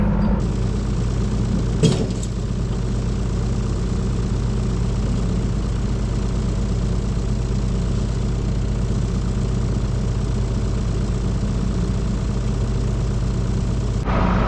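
A heavy tractor engine idles steadily and close, a constant low chugging drone throughout with one brief clank near the start.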